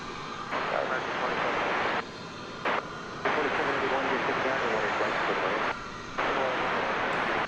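An Alaska Airlines plane takes off at DFW Airport, a broad engine roar swelling and holding loud over several seconds, with a voice talking over it and brief cut-outs in the sound.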